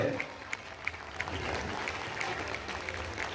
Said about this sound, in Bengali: আরেকবার একটু হাততালি হয়ে যাক আপনাদের জন্য